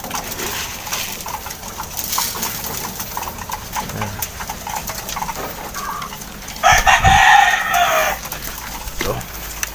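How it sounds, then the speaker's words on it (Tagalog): Chickens kept underneath a pigeon coop crow and cluck in a steady mix, with one louder, nearer crow rising near the end amid continuous background activity. "ito yung mga manok natin sa ilalim"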